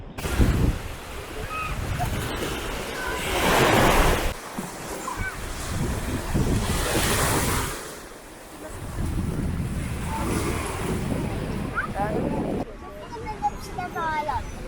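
Sea waves wash in on a windy Baltic beach at Międzywodzie, Poland, with gusty wind buffeting the microphone and a voice speaking briefly now and then.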